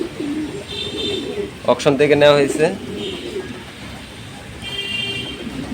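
A racing pigeon at a loft gives a brief throaty cooing phrase in the middle, while someone speaks over faint background bird chirps.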